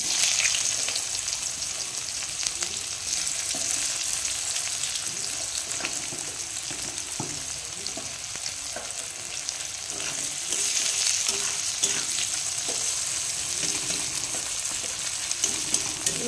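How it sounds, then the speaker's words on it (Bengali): Onions fry in oil with cumin, cinnamon and cardamom for a potato curry, giving a steady, close sizzle with light stirring scrapes throughout and no voices. "পেঁয়াজটাকে একটু সুন্দর করে ভেজে নেব।"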